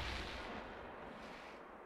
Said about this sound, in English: What the hell is going on down there? So much explosions.